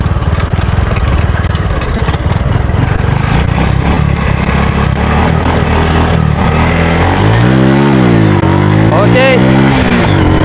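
A Modenas Kriss 110 motorcycle fitted with an adjustable CDI runs loud and close, its engine droning steadily before revving up and down in several swells near the end, with voices mixed in.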